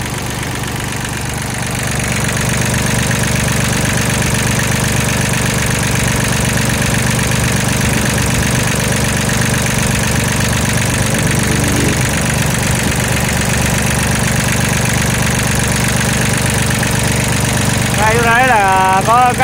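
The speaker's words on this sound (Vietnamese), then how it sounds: "Máy nổ rất là im luôn." A Japanese-market Kubota L2202DT tractor engine runs at a steady idle, a loud, even diesel rumble holding throughout with little change in pitch or rhythm.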